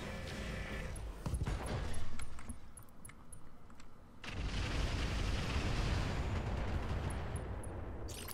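Mech weapons fire in the Roguetech video game as loud, heavy booming bursts. Rumbling blasts swell and fade, then a dense, sustained barrage rolls on over a faint high ticking.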